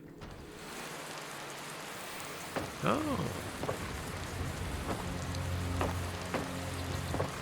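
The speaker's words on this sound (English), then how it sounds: "It's a light rain." Light rain falls steadily in a video game world, a soft even patter of drops on surfaces with a brief muffled exclamation and faint tonal sounds over it.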